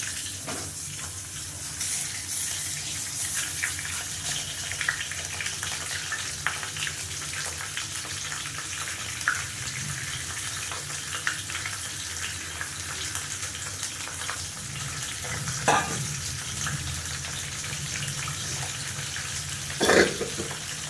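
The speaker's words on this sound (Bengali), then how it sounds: "কাতলা মাছের মুড়ো এবার তেল দিয়ে দিয়েছি এবার মুড়ো দুটো আমি ভেজে নেবো" Katla fish heads frying in oil, a continuous hissing sizzle held at a fairly even level for a long stretch, with a couple of brief clatters near the end.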